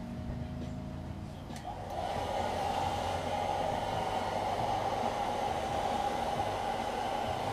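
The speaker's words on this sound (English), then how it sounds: "what we're going to do is use a heat gun" Heat gun blowing on a junk circuit board for desoldering, a steady loud whooshing roar that kicks in after a quieter start and holds constant, close by, with no voices.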